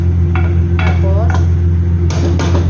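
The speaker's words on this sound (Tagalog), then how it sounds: "haluin po natin siya. Halalay lang halo guys para hindi masira yung kanin" A utensil scrapes and clinks against a pan while half-cooked rice is stirred gently for Chinese-style fried rice, several distinct metallic knocks and scrapes over a steady background hum, with a voice speaking briefly in between.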